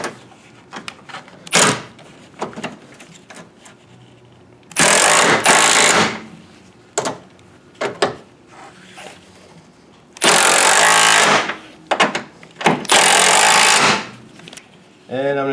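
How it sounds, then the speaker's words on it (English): A power tool tightens bolts on a Ford Thunderbird front suspension in loud, sharp bursts of a second or two, with rattling clanks and quieter clicks of parts being handled between them. "I'm gonna tighten these down."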